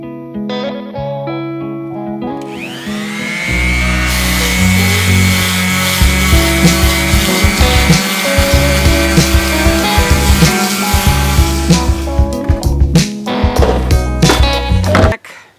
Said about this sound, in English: So I'm going to try and sand, and this is a sander I bought from Ace.